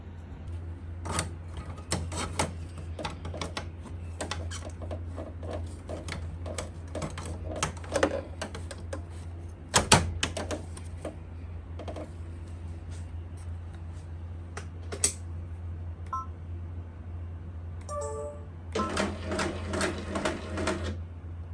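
Embroidery machine stitching a cap held in a cap frame, a steady mechanical hum under rapid rhythmic needle ticking with occasional sharper clacks and a denser burst of stitching near the end.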